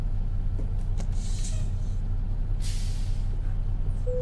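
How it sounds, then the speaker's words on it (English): An International Prostar truck's handbrake engages in American Truck Simulator, giving a short hissing air-brake burst over a low steady engine rumble, with a second brief hiss a moment later. "Let's try that handbrake."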